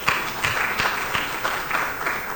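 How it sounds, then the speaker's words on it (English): Audience applause for presenters at an executive dialogue event, a steady wash of many hands clapping with distinct crisp hits throughout, fairly close and continuous with no talk over it. "Let's give a round of applause to our presenters."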